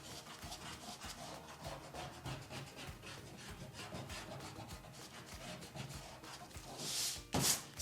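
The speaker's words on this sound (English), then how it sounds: "Now I'm erasing the original 9 line." Eraser rubbing back and forth over an oil pastel line on paper, a steady run of soft scrubbing strokes close by, louder brushing at the end.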